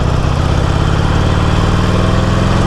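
A Harley-Davidson Forty-Eight Sportster rumbles steadily while riding, its low, loud engine drone close and continuous with a throbbing, even pulse and no speech over it.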